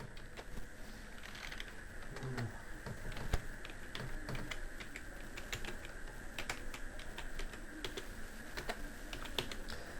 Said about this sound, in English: Now type your text.